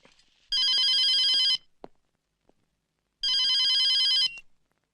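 A telephone rings with two loud, bright electronic trills, each about a second long, separated by a short pause with faint clicks, heard alone without talk in an indoor comedy scene.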